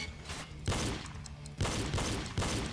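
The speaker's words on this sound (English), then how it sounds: "Just keep shooting the targets." Gunfire at shooting targets in a game, three heavy bursts of rapid shots close and loud, separated by brief pauses, no talk.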